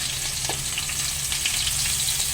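Curry with green chilli and onion cooks in a pan, giving off a steady, soft sizzling hiss with faint stirring and no voices.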